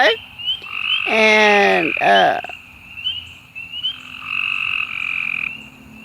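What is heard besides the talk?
frogs croaking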